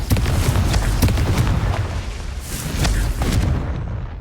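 A Confringo spell blast in Hogwarts Legacy bursts into a loud, rumbling explosion with crackling debris and a few sharp pops, fading toward the end.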